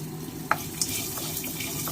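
Something fries in a little oil for mutton gravy, Kongu style, a soft continuous sizzle with a couple of sharp utensil clicks near the start and no voices.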